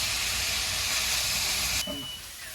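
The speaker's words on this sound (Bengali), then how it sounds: "এভাবে নাড়াচাড়া করে ভর্তাটা ভেজে নেবেন ভালো করে" Banana stem bharta fries on a clay stove, giving a steady, loud sizzling hiss that carries on unbroken, then thins out abruptly near the end as the stirring pauses.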